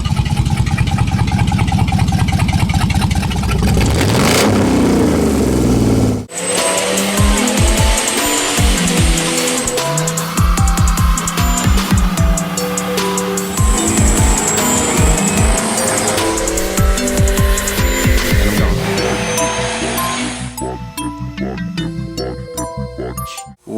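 A Dodge Magnum 3.5-liter V6 stroker with big cams, ported heads and intake rumbles loudly through rhythmic, choppy revs and lumpy idle, with a brief drop before it picks back up.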